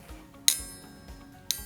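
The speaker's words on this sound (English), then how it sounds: "So when we tap the coat hanger," A metal coat hanger is tapped twice, each strike a sharp bright ping with a short shimmering ring that fades before the next, close and clear with no talk.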